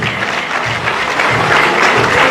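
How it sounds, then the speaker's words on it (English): A crowd applauds to welcome Honorable Kwaku Partey as a speaker, with loud, continuous clapping that keeps a steady level and swells slightly toward the end. "With a resounding round of applause, let's welcome Honorable Kwaku Partey."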